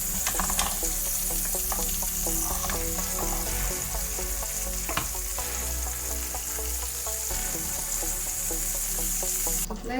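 Pieces of mud crab fry in hot oil with a loud, continuous crackling sizzle, dotted with small pops and a brief clatter of stirring.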